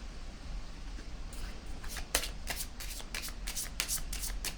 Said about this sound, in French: Ici, je vais déposer une autre carte.